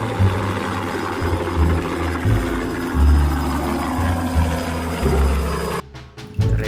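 A toy helicopter whirs with a steady motor buzz and low rhythmic throbbing, close and continuous, before cutting out briefly near the end.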